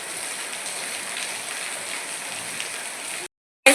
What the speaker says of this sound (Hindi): बस बारिश छूटने का इंतज़ार है।